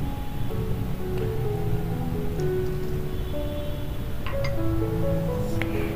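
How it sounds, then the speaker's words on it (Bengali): Water is poured into chhena that has been curdled with lemon juice, making a steady rushing splash and trickle close by, with faint clinks near the end and no talking. "নিয়ে এতে আমি 1 কাপ জল দিয়ে দেব"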